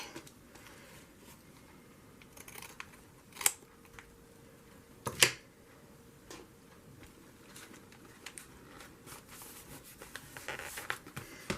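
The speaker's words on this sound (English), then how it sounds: "I'm going to trim this with the big scissors." A few sharp snips of big scissors cutting paper cut through quiet room tone, spaced apart, with soft rustling and small clicks in between.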